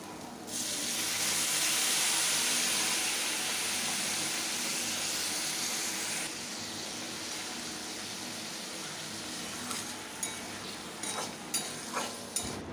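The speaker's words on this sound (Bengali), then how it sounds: "এদিকে জলটা ফুটতে শুরু করেছে" Water boiling on a gas flame in a pot of potato curry gives a loud, steady steamy hiss that eases after about six seconds, then a few soft bubbling pops near the end.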